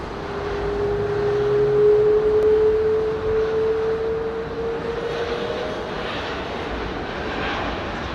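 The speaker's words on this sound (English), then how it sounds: "This is a Virgin 350 freighter." A Virgin Atlantic Airbus A350 freighter at Heathrow Airport passes with a loud, steady jet engine roar and a sustained droning whine that rises, holds and slowly fades, with no talking.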